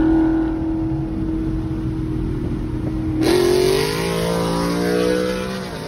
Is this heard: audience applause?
no